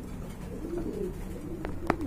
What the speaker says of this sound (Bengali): দেখেন আপনারা, একদম কিউট এক জোড়া কবুতর